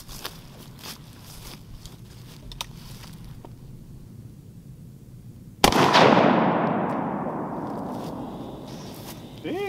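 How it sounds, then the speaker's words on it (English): A single sharp gunshot is fired at a soda bottle target outdoors. It comes as one loud close crack after a quiet stretch with faint movement, followed by a long decaying ring. "I still don't understand why you shooting my favorite soda"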